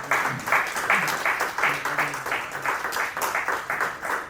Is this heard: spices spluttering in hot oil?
no